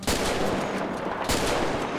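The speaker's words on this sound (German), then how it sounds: "kommt wieder Officer Blödschmann hierher, weil er 2 Schüsse gehört hat im Wald" Gunfire in the video game GTA 5 with a mod: sharp, loud shots in quick succession, with a couple of stronger bursts standing out against a dense, noisy background and no speech.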